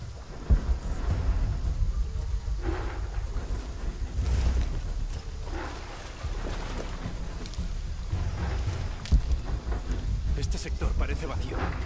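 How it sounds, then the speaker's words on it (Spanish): Heavy rain pours in Shadow of the Tomb Raider, with low rumbles of thunder rolling through a continuous wet hiss, occasional louder swells and speech partly mixed in. "Si no estuviera lloviendo."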